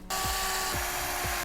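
A power screwdriver backs out self-tapping wood screws 4.5 cm long in a continuous high whirr lasting over a second, close and fairly loud with a steady grinding texture and no talk.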